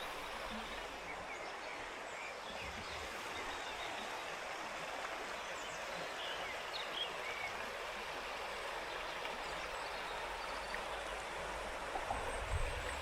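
Water from a stream runs steadily at the water's edge near a mill with a water wheel, a continuous broadband rush with no speech.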